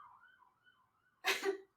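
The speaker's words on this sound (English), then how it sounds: "That was an ambulance." An ambulance siren outside wails faintly with a rising and falling pitch, then a sudden close sneeze or cough cuts in.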